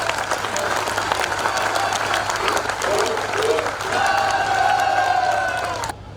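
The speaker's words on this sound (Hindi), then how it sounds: "इस काम के लिए ये तालियां कमजोर है" An audience at a Maharana Pratap lineage event applauds loudly with cheers and whoops, steady dense clapping for about six seconds before it drops away.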